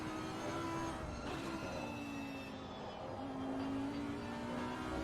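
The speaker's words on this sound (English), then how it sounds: "You can hear the car. Listen carefully." Race car engine close behind another car in a Suzuka race in a racing video game, a faint, steady drone with rising and falling tonal pitch sweeps as the engine revs, no talk.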